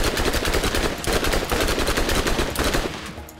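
An SMG fires rapid continuous bursts in the video game Borderlands, loud and dense shots rattling almost without a break before tailing off at the end.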